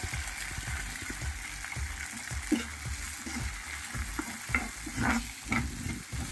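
Capsicum, green peas and grated carrot are stirred in a sizzling pan, with a steady fry hiss broken by repeated scraping strokes of a spoon, close and fairly quiet.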